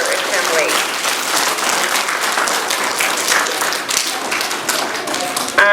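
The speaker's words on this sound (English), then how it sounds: "Let's give ourselves one big round of applause to end our assembly." A school assembly audience of children and staff bursts into a sustained round of applause, dense clapping filling the hall at steady loudness, with chatter and cheering mixed in throughout.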